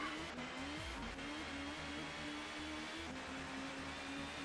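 A touring car at the Croft circuit in the racing game TOCA Touring Car Championship, its steady engine drone carrying a brief tire squeal as it skids, close and continuous with no voices.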